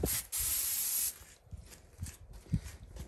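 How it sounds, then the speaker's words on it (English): A spray bottle gives a loud, steady hiss for under a second during a steak cook on a Weber kettle grill, followed by quieter rustling and a few soft thumps. "spray it again"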